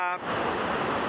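Wisconsin's highest waterfall roars as a dense, steady rush of falling water, loud and close, filling the whole clip after a brief tonal sound at the very start.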